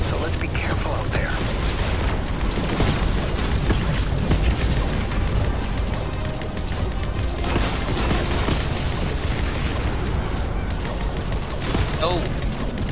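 A bomb explosion in the Fortnite video game, rendered as a dense, loud barrage of blasts and rapid gunfire-like bursts that continue without break, with voices audible underneath.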